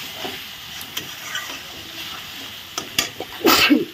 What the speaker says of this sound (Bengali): চিনিটা দিয়ে একটু ভালো করে নাড়াচাড়া করে আরো ভালো করে কষিয়ে নিচ্ছি।